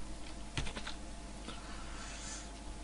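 Faint, quick keystrokes on a computer keyboard in a quiet room, a short cluster of clicks near the start followed by a few scattered taps.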